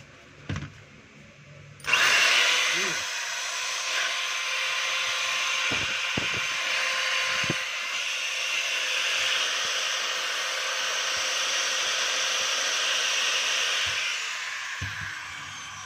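A DeWalt 13mm hammer drill, freshly repaired so it no longer sparks, is switched on after a brief pause and runs with a steady, loud, high whine for about twelve seconds before cutting off.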